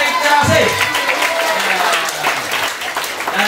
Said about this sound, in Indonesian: Tepuk tangan, Josh, buat Iftirosi.